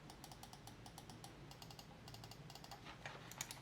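A rapid series of crisp, sharp mouse button clicks in irregular bursts over a faint steady background hum.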